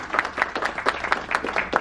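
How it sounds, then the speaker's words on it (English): Short burst of audience clapping for special guests at a 2018 MICOM media partnership announcement, distinct individual claps in a fairly quick, uneven rhythm, close and moderately loud. "Please give a round of applause."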